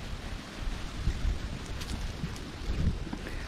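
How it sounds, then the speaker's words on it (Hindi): Wind blowing outdoors across an open spot in a guava garden in Bangladesh, a loud, steady broadband rush with gusty buffeting against the microphone and no voices. "बड़ी अच्छी हवा चल रही है इधर।"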